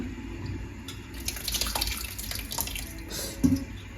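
Water splashing and trickling, likely at a sink, with a continuous running-water wash and small splashes close by, plus a brief knock near the end; no voices.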